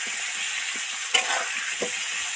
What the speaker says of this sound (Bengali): এর মধ্যে একটু নুন আর একটু হলুদ গুঁড়ো দিয়ে দেবো ভালো করে নেড়ে চেড়ে মিশিয়ে ধরে ধরে ভাজতে থাকবো